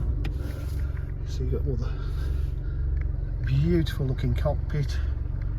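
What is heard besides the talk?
BMW 1 Series 116d diesel engine starting up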